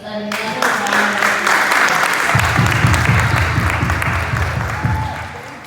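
A crowd at a junior pageant breaks into loud, sustained applause for the young contestants, many hands clapping together, with a voice speaking over the start.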